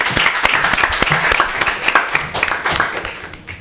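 A studio audience applauds a coach being welcomed onto a school quiz show, a dense burst of many hands clapping that fades slightly toward the end.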